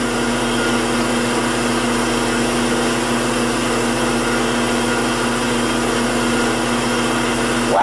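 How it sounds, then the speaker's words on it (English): Wood lathe spinning at high speed while butcher's wax is burned in as a finish on a turned bottle stopper, giving a steady, loud motor whine and hum that runs unbroken throughout. "You want to turn the lathe up pretty fast,"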